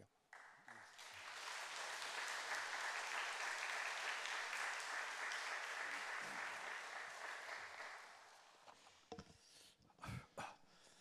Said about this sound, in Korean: 나오실 때 우리 여러분 박수 한번 쳐주십시오.